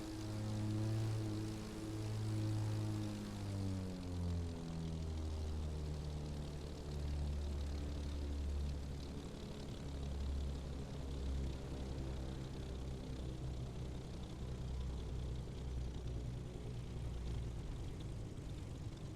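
A propeller airplane in the racing game The Crew Motorfest comes in to land at an airport, its engine drone steady and loud, dropping in pitch and settling into a lower rumble as it touches down.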